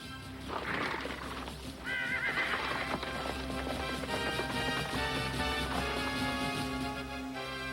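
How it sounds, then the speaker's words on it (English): Rapid hoofbeats of a galloping horse pound under dense background music, with a whinny breaking through early on. "Isn't that the masked man's horse?"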